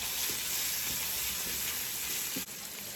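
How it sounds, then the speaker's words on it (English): Bacon and sausage sizzle and crackle in a dry skillet with no added fat, a steady close frying hiss with small pops throughout. "with our bacon and our sausage cooking away, getting nice and crispy"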